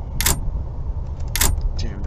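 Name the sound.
rattling a locked door in the video game Ao Oni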